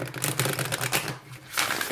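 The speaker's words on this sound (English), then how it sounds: "let's just go ahead and give it a little shuffle" A deck of thin-cardstock Goddess Oracle cards is riffled and shuffled by hand, giving a close, steady run of papery flutters and clicks that eases off briefly near the end before resuming.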